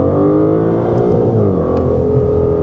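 An Aston Martin DBS 770 Ultimate with a twin-turbo V12 accelerates at full throttle, a loud, close, continuous engine roar that rises steadily in pitch as the car pulls hard, with no talk over it.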